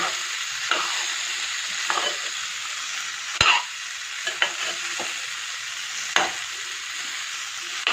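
Sliced onions fry in hot oil in a pan for a Kerala koorka (Chinese potato) stir-fry, a loud continuous sizzle broken by a few scraping stirs and clinks of a spoon against the pan.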